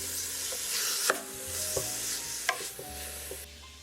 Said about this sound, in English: we'll just let this cook down for about 5 minutes or so, just until the onions are translucent and the peppers are nice and tender